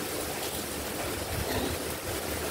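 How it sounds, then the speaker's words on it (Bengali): Tap water runs steadily over radish greens being washed in a home kitchen, a close, even rushing splash with no pauses. "শাকটা ধুয়ে দেবে।"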